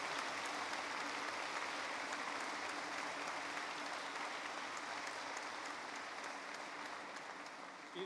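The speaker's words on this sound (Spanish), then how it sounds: "Yo creo que estos se merecen un aplauso" Sustained applause from a congregation during a church mass, even and steady throughout, heard at a modest level from a distance.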